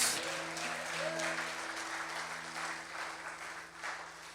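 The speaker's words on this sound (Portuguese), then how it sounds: "Aplauda ao Senhor dando glória a Deus." A church congregation applauds during a live worship service, producing steady, dense clapping throughout with sustained musical tones humming underneath.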